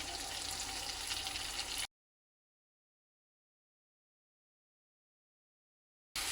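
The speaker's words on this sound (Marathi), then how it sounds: "सगळे मसाले तेलामध्ये एकत्र घालून घ्यायचे" Red chili powder, coriander powder, turmeric and homemade masala sizzling in hot oil for Khandeshi shev bhaji, a steady hissing fry that cuts out abruptly to silence and briefly returns at the end.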